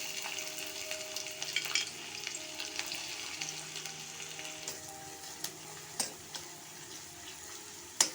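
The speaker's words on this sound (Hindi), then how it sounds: "प्याज को हम कलर आने तक थोड़ा सा फ्राई करेंगे।" Two finely chopped large onions sizzle in hot oil over toasted cumin seeds for a paneer ghotala, a steady quiet crackle with occasional stirring clinks of a spoon against the pan.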